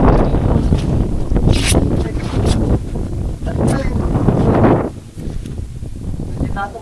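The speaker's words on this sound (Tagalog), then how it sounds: "Mahangin. Mahangin." Gusty wind at sea buffets the microphone in strong bursts aboard a boat, roaring and then easing, with an open-water feel and brief quieter lulls near the end.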